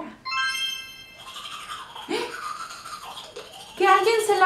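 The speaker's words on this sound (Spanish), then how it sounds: "Así suena un cepillo de dientes" A toothbrush scrubbing teeth, its buzzy bristle strokes mixed with a voice and musical tones in a short preschool sound game.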